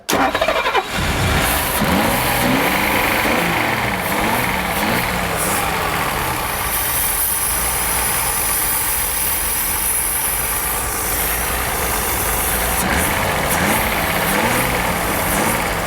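A Rolls-Royce Corniche convertible barn find, long left unused, cranks and fires, then its engine runs loud and close with revving and rough idling, holding steady for a long stretch.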